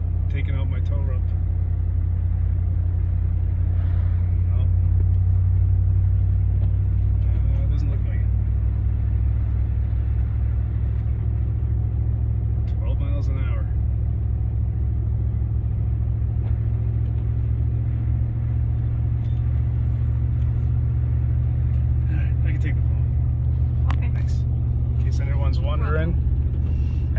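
Car driving through snow on Pirelli Scorpion AT Plus all-terrain tires, a steady low engine and road rumble running throughout with a brief throttle increase, and someone talking intermittently over it.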